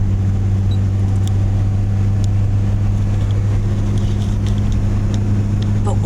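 A car driving along, heard as a loud steady engine and road drone with strong low hum and wind rush, unbroken throughout, with a few faint ticks on top.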